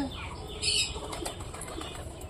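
A pigeon claps and flaps its wings in a quick, loud burst near the mic, with faint bird chirps and background noise throughout the short stretch.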